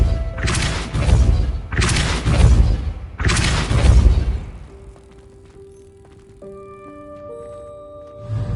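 Three loud booming spell blasts from the Depulso charm in the video game Hogwarts Legacy, evenly spaced over about four seconds, followed by quieter game ambience and soft musical tones.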